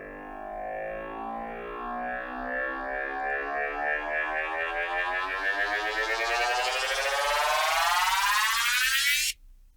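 A synth riser made in Serum 2 sweeps steadily upward over about nine seconds, growing buzzier and more distorted with a gritty, stepped downsampling texture, then cuts off abruptly.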